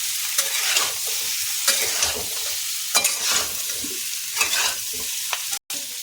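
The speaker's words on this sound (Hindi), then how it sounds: "इसको थोड़ी देर भून लेंगे।" Potatoes for dum aloo fry and sizzle in a pan with spices, a steady hiss broken by repeated scraping strokes of the stirring spoon, close and continuous, no voices.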